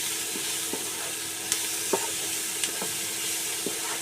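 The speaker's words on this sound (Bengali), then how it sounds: "ভালো করে নেড়ে চেড়ে একটু ভাজা ভাজা করে নেবো টমেটোটাকে সব মশলার সাথে" Chopped tomatoes fry with spices and cumin powder in a pan over low to medium heat for a fish-head moong dal. A steady soft sizzle runs throughout, broken by irregular close spatula scrapes and taps as the mixture is stirred. No one speaks.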